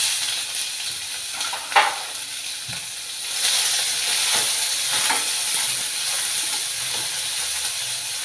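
Three chopped onions fry in oil with green chillies in a pan, a soft crackle that swells into a steady hissing sizzle after a sharp clank, with occasional stirring scrapes, close by and without speech.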